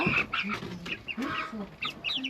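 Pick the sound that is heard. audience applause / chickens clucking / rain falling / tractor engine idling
chickens clucking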